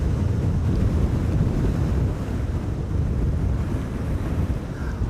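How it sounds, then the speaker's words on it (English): Strong storm wind from Storm Amy buffets the microphone at Amsterdam Schiphol Airport, a loud continuous low roar and rumble that holds steady for the whole stretch with no voices. "Wind's definitely not slowing down."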